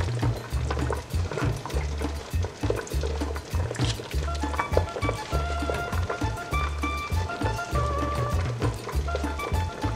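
Cooked meat and its broth are poured from a container into a pot of mole de olla. Liquid splashes and gurgles up close, with an uneven rhythm of sloshes and drips.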